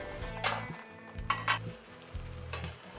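An egg roll cooks in a pan after being flipped, a soft continuous sizzle under three sharp bursts of scraping and clinking from a utensil against the pan.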